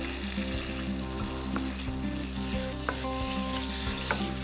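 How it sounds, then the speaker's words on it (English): Pesto made with hazelnuts, garlic and parmesan sizzles steadily in a hot pan, a dense crackling hiss with occasional soft scrapes of a spoon stirring, close and fairly quiet with no talk. "I'm frying the pesto in the pan and getting a bit of heat into there."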